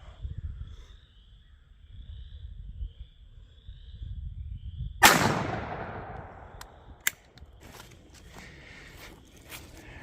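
A single sharp, loud shotgun blast from a Stevens 301 Turkey .410 firing number 9 shot outdoors, ringing out after quiet ambience and followed by a few faint clicks and handling sounds.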